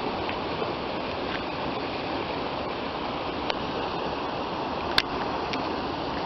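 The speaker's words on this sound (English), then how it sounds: "look at the beautiful waterfall" Forest waterfall and stream heard from a bridge, a steady, loud broadband rush of falling and flowing water filling the whole clip with no voices.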